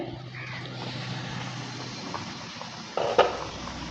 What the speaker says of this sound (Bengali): দুই মিনিট হয়ে গেছে ঢাকনাটা এবার তুলে নিচ্ছে